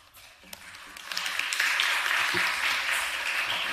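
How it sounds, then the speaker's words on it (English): Applause from the audience at a Guilford County Commission meeting swells up after a speaker finishes and holds steady as a moderately loud wash of clapping, with faint talk underneath. "I'm going to ask that you do not applaud"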